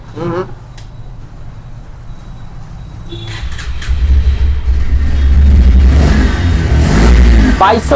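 A second-hand motorcycle at a used-bike showroom in Dankuni starts up partway through and revs loudly, its engine building to a strong, throaty roar that continues to the end, with people talking nearby.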